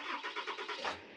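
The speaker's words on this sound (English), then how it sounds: "Simply turn the truck on" A truck engine starts: the starter cranks in a quick run of rhythmic pulses, then the engine catches. It is close and loud, with no talking.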